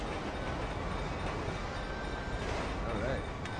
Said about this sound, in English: Avoid the train.